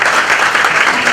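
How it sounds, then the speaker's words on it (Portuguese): Audience applause fills a lecture hall at a real-estate council talk in Ceará, steady dense clapping throughout with no voices over it. "Uma salva de palmas"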